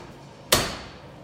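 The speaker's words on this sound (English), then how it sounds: "you can shut the door to the Combi Oven" A combi oven door swings shut with a single sharp, loud thud-clack that decays over about half a second, standing alone against a quiet kitchen background.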